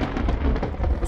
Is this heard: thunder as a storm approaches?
yes